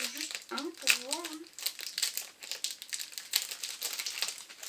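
Crinkly plastic packaging of small Tinkerbell notebooks being handled and opened, with close, steady crumpling and rustling while someone talks over it.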